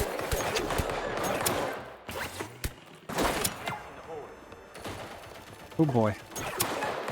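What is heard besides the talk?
weapon firing Nerf pellets from the hip in the video game Deceive Inc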